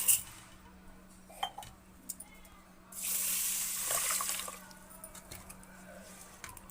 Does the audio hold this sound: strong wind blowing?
no